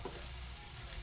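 Garlic sautéing in a pan gives a steady, close broadband sizzle with no voices, held at an even level throughout the brief moment.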